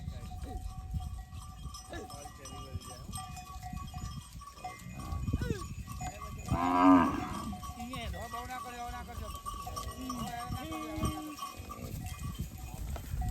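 A cow lets out a single low moo partway through, under ongoing talk, with faint bell clanks and farm animal sounds in the background.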